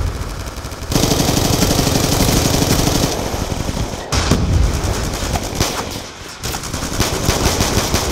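Rapid automatic fire from the MSMC submachine gun in Black Ops 2 rattles in loud, dense bursts, broken by brief pauses and sharp impacts, with busy in-game battle noise filling the gaps.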